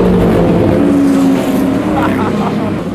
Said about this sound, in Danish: Og nu går starten altså på den her 65'er-klasse i finaleheatet. Lige her kommer det. De kører med rullende start